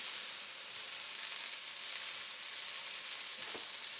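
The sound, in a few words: stir-frying seitan and vegetables in a pan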